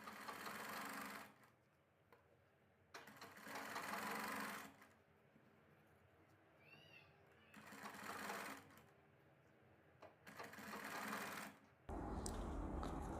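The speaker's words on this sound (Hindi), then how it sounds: "अब हम अपनी सिलाई को कंप्लीट करते हैं।" Sewing machine stitching the collar onto a kurti, running in several loud bursts of rapid mechanical whirring separated by quieter pauses, with a brief high squeak in one gap and a louder hum at the very end.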